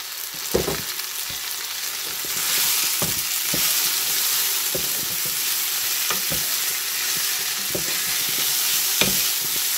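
Onions frying in a generous amount of butter in a pan, a steady bright sizzle throughout with occasional sharp clicks and scrapes of stirring.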